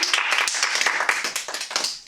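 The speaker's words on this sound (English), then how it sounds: "let's just generate applause for" A small group claps in a quick, dense burst of applause in a warm meeting room at a Toastmasters meeting, close and fairly loud, lasting a couple of seconds.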